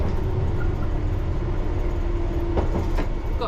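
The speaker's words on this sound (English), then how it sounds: "There's a District Line train going to Tower Hill." A London Underground District Line train bound for Tower Hill gives a continuous, loud low rumble with a faint steady hum, and a few brief clacks near the end.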